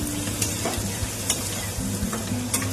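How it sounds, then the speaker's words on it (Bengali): Potato pieces with salt and turmeric fry in oil while being stirred, giving a steady close sizzle broken by regular scraping strokes of the spoon, with no talking. "আলুগুলো একটু লাল লাল করে ভেজে আমি তুলে নেব।"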